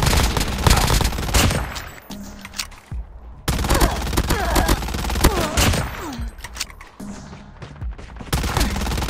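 Gunfire in the mobile battle royale game COD Mobile, with loud, dense bursts of rapid automatic shots close by, briefly pausing and then resuming in repeated volleys.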